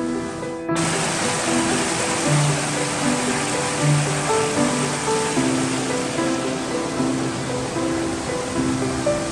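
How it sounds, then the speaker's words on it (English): Rushing water and a waterfall on the Ouzel Lake trail in Rocky Mountain National Park make a loud, continuous roar that starts abruptly just after the opening moment and holds steady throughout, with faint tonal hums underneath. "We're going to see a lot of waterfalls."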